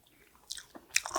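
Someone bites into a crispy rice dish with peas and raisins, its bottom crusted like scorched rice. A few sharp crunches come close to the mic over quiet surroundings, with no talking.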